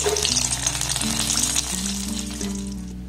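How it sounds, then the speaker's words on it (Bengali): Green tomato pakoras frying in hot oil, a steady close crackling sizzle with bubbling, running continuously without any talk. "আর একইভাবে সবগুলোকে আমি ভেজে নেব"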